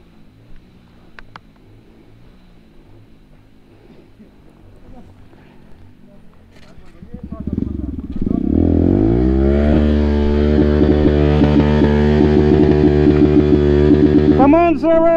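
A Yamaha FZ motorcycle labours to climb slippery ground, its engine rising from a low idle into a loud, sustained revving roar in the second half, with people shouting encouragement over it.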